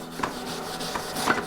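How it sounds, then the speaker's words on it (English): Wax being rubbed onto wooden clamping cauls for an end grain cutting board, a soft continuous scuffing with a few brief sharper scrapes, close and fairly quiet. "I'm just going to give them a quick coat of wax"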